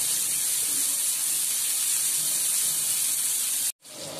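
Bombay duck (bombil) fish frying slowly in oil on a flat pan over low heat, giving a steady, loud, broadband sizzle that runs unbroken before cutting off abruptly near the end.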